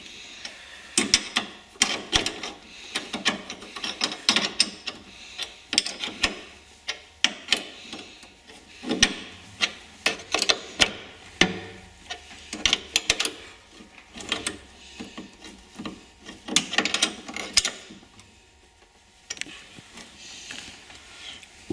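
A battery terminal on a custom classic car is tightened with a hand tool, giving irregular ratcheting clicks, metallic ticks and scraping, close and moderately loud, with no talking.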